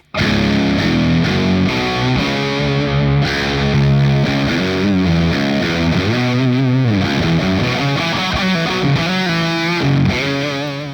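Distorted high-gain electric guitar played through an amp tone on a Quad Cortex with added reverb, a dense chugging and sustained riff with bending notes and shifting chords, loud and alone for about eleven seconds.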